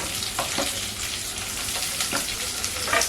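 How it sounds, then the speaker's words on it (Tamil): Curry leaves, onion and green chili fry together in hot oil for a potato masala, a continuous close crackling sizzle with occasional scrapes of stirring and no speech. "கருவேப்பிலை பொறிஞ்ச உடனே வெங்காயம் பச்சை மிளகாய் எல்லாம் ஒன்றாவே சேர்த்துடலாம்"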